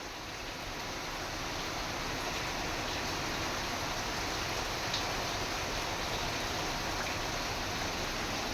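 Rainwater drips and patters steadily as it leaks through a house roof, a dense, even hiss of falling water at moderate level with no break, from several spots at once.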